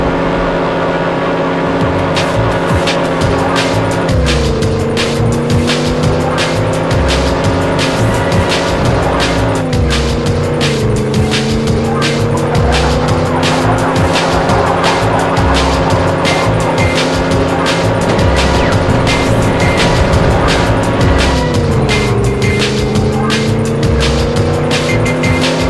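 In the PlayStation game 007 Racing, a car engine howls loud and continuous, its pitch dropping and climbing again with each gear shift, while tires squeal over it again and again.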